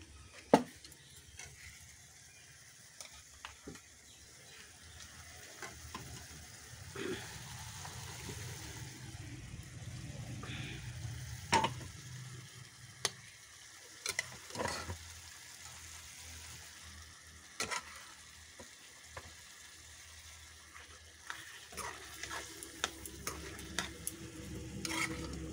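Boiled jackfruit stirred into a pan with fried fish, a low steady sizzle with scattered utensil scrapes and clinks throughout, moderately quiet and close, no talking.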